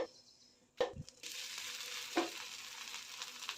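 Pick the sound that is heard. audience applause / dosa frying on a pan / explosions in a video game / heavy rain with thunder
dosa frying on a pan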